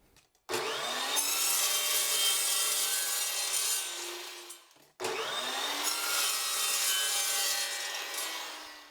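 Aluminum angle being cut to length with a saw in two long, steady passes, loud and close, with a short pause between them and no talking.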